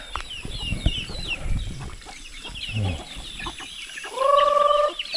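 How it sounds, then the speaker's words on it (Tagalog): Chickens cluck and chatter close by while being fed on a mountainside, with scattered bird calls and a brief higher squawk near the end, no talking. "magbigay ng pagkain ng manok"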